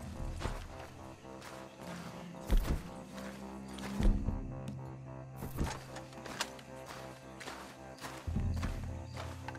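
A horse's hooves clip-clop at a walk in Red Dead Redemption 2, near and moderately loud, with uneven steps, a few sharp thumps and steady in-game ambience around them.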